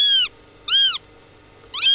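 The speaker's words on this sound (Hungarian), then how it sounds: "ez az első macskája" A cat meows three times in short, bending calls with quiet gaps between them. The sound is close and clear, with no talking.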